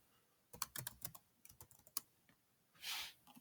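Keys clack on a computer keyboard as C# code is typed, a quick uneven run of close taps over about a second and a half, ending in a short hiss-like burst.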